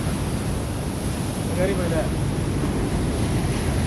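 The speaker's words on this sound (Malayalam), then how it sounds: "നല്ല ശക്തിയിലാണ് തിര വരുന്നത്" Rough sea surf rolls onto a beach in a steady, wash-like roar, with wind buffeting the microphone throughout and no distinct individual breaks.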